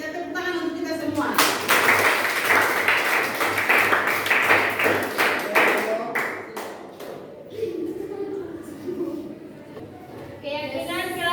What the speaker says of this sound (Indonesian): kita tepuk tangan untuk kita semua